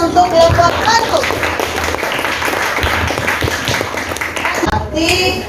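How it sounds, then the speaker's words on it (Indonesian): Classroom applause for a student group, a dense patter of clapping hands mixed with children's chatter and voices, steady throughout. "Aplaus, berikan aplaus untuk kelompok Bandung."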